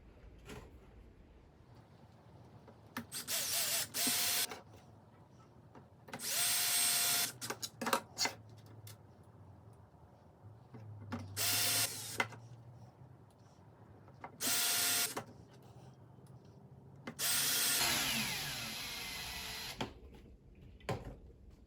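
Screws are driven to assemble a 3D printed stand for a TRX4 RC car, heard as several separate bursts of electric screwdriver whir with quiet gaps and soft handling noises between them, close and without speech.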